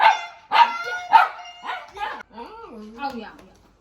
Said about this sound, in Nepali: यो कुकुरको नाम रक्की हो।